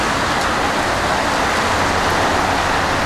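Rain falls steadily at an outdoor protest in Los Angeles, a dense, even hiss that fills the whole stretch loudly, with no talking.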